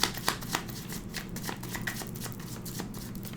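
Tarot cards being shuffled by hand, a steady run of crisp riffling and flicking slaps lasting a few seconds, close and fairly quiet with no voices.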